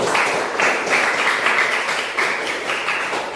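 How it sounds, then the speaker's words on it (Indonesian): In a junior high school classroom, students applaud a classmate with close, loud clapping that swells in a few bursts, individual hand claps audible within the group. "Tepuk tangan untuk teman kita."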